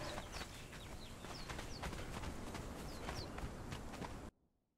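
Horse hooves in the survival game Conan Exiles, a quick run of rhythmic clopping steps with light bird chirps in the background, playing steadily before cutting off abruptly near the end.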